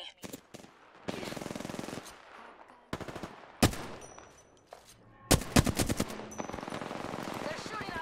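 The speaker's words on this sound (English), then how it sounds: "They're shooting at me." Enemy gunfire in the Apex Legends video game: rapid automatic bursts and single shots cut in and out, loud and close, with brief quiet gaps between volleys.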